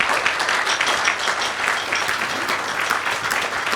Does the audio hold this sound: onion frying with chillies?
no